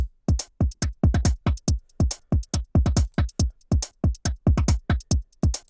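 Rapid stuttering percussive hits with an echo effect whose feedback is turned up, made in FL Studio for a glitchy Brakence-style beat; dense, repeating bursts in an uneven rhythm, loud and close, with no voice.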